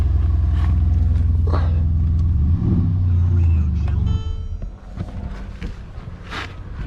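A car engine idles with a deep, steady rumble that cuts out partway through, leaving quieter room sounds and faint voices.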